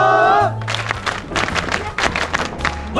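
Ceremonial hand clapping in unison after a shrine festival at Sumida River Shrine, following a spoken phrase, with a crowd clapping in a rhythmic burst under ongoing voices.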